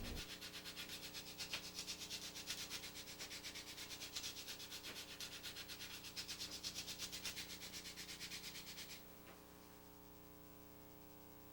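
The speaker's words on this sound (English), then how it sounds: "The Rigid brand spindle sanding drums are perfect for smoothing concave surfaces" Continuous rubbing scrape of a Rigid spindle sanding drum smoothing the concave inside of a balsa wood cowling, steady and close with a motor hum beneath, the sanding stopping near the end leaving only the hum.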